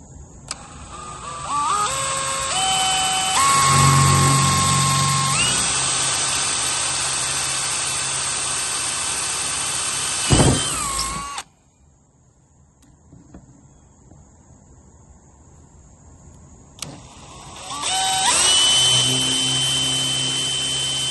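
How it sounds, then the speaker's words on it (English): A power drill whines loudly as it spins up and bites in, cuts off, then after a quiet pause starts drilling again. "let's drill the second one"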